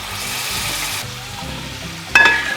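Tomatoes fry with chili, coriander and pepper powders for a chicken curry, giving a close, steady sizzle with stirring scrapes and a sharp utensil clink near the end.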